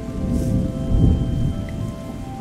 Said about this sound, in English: Ah, so now it's raining.